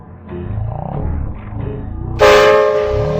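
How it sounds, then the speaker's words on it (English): A steam engine whistle in an animated train story blasts loud and sustained near the end, following a short stretch of rumbling rail noise. "Suddenly, he heard an engine whistling."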